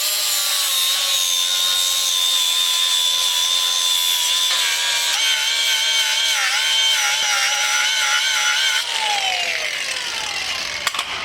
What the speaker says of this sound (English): take a flat disc on an angle grinder and ground this down smooth